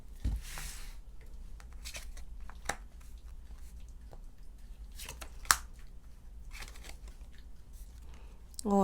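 Tarot cards are drawn from a deck in a quiet room. Soft, close slides, rustles and a few sharp snaps stand out against faint background noise.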